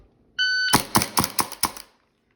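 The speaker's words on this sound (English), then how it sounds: "Beep goes off." A shot timer at an IDPA shooting stage gives a sharp electronic beep, followed by a rapid string of five loud, evenly spaced gunshots.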